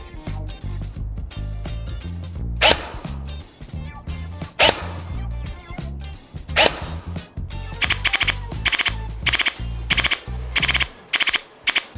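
An LCT SVDS airsoft AEG DMR fires BBs at a 50-metre target, giving sharp, close shots that come singly at first, then in a quicker, evenly spaced string over steady background noise.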